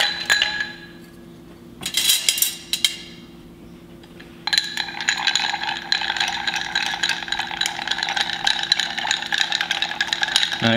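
Ice rattles and clinks against glassware while a Martinez cocktail is mixed, with a brief burst of clinking, a pause, and then steady, busy stirring that rattles on with no voices over it.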